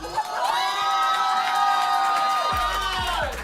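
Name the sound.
crowd cheering at a marriage proposal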